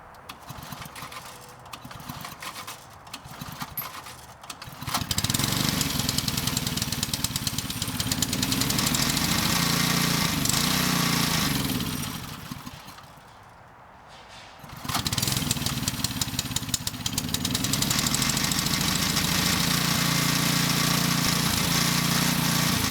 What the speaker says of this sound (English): The engine hasn't been started for a while.